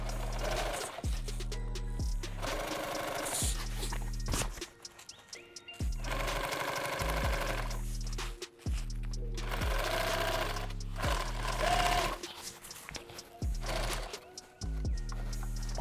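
A sewing machine stitches helmet bag material in several loud, rapid mechanical bursts, running in steady stretches separated by short pauses, close up.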